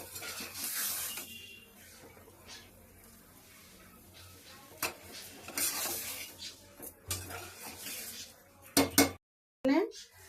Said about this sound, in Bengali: মশলার সাথে ঝিঙে আলুটা কষে নেবো।